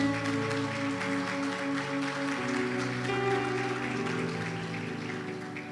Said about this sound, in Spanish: Sí, aplauda al Señor.